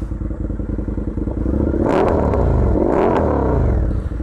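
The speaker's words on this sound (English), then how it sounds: "This motorcycle's super loud, so I'm going to give it a couple revs" A loud 2019 Indian FTR1200S motorcycle idles roughly up close, then its engine is revved twice in sharp, aggressive bursts before settling back to a throbbing idle.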